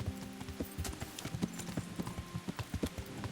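Hoofbeats of a galloping horse in Kingdom Come: Deliverance, a fast regular clatter of nearby hooves over faint background ambience.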